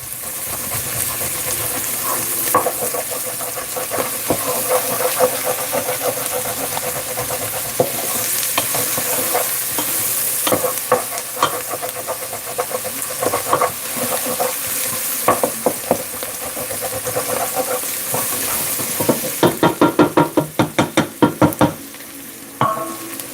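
Food fries and sizzles steadily in a pan on a home stove while a utensil stirs and scrapes the bottom, with a flurry of sharp scraping clicks near the end.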